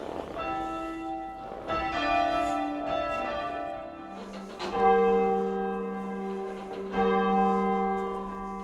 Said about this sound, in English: The bells we've just rung up are now upside down